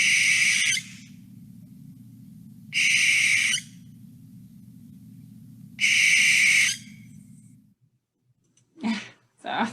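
A barn owl gives three harsh, hissing screams, each lasting under a second and spaced a few seconds apart, over a low background rumble. Two short, muffled noises follow near the end.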